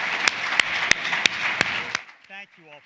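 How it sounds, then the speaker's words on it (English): An audience applauds in a hall, a steady wash of clapping with sharp periodic percussive hits for about two seconds, then fading as a voice begins speaking. "I'd like another quick round of applause for Joe Kennedy and our illustrious and"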